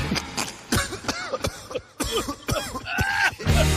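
A series of harsh coughs and throat-clearing sounds, close and loud, repeating in rough bursts.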